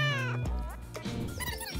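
Cartoonish cat meows, a couple of bright, wavering calls up close and fairly loud, with other layered sounds underneath.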